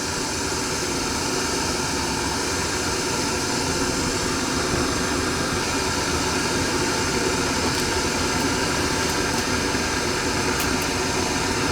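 An electric kettle heats water toward a boil with a steady, unbroken rushing hiss and a low rumble that stays loud and close throughout. No voices are heard.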